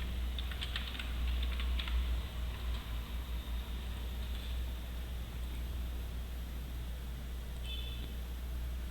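Continuous typing on a computer keyboard in a Corel Draw design session, with a quick burst of close, light key clicks early on, then sparser taps over a steady low background hum.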